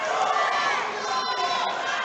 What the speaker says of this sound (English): The crowd trying to urge on both fighters as the clock winds down to 30 seconds.